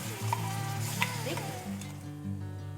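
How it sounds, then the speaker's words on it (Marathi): Tomato puree hitting hot oil in a pan gives a loud, steady sizzle with a few stirring scrapes, a quieter bubbling frying sound following, heard close up with no talk. "आणि आता ही प्युरी टाकते मी."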